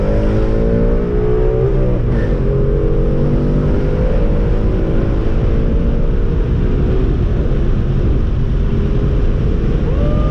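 A tuned car accelerates hard in second gear, its engine roaring loud and close as the pitch climbs steadily and strains for the full stretch, with no voices.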